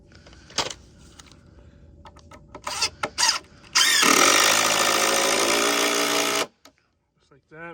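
Power tool driving a fastener into a wooden sawhorse: a few sharp taps and short bursts, then a loud whirring run of about three seconds that stops abruptly, followed by quiet handling.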